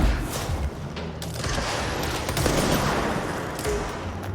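Rapid gunfire from the video game Control, a dense continuous barrage of shots with booming impacts, loud and close throughout.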